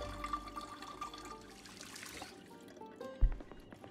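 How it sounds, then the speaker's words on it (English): Water running and pouring to fill two empty bottles in Project Zomboid, a steady trickling liquid stream that fades out, followed by a brief thump near the end. "let's go ahead and fill the 2 empty bottles with water so that I have a steady supply of hydration"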